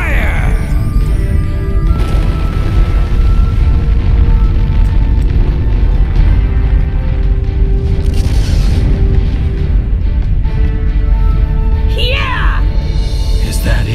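Heavy explosive blasts from a Naruto Ultimate Ninja Storm 4 fight, a dense rumbling roar sustained throughout with repeated booming bursts and crackling, loud and close, with voices talking over it.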